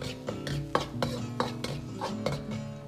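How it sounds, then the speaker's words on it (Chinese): Diced green and red peppers and onion are stir-fried in a wok, with a spatula scraping and clanking against the metal in quick, irregular strokes over a soft sizzle, close by. "接着倒入青红椒丁和洋葱，稍微翻炒几下，炒出香味。"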